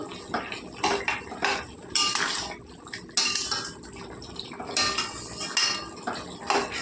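Repeated metal clanks and scrapes of a spoon against a pot while a cauliflower and broad bean curry is stirred, coming in uneven bursts over a wet, bubbling background; close by, no voices.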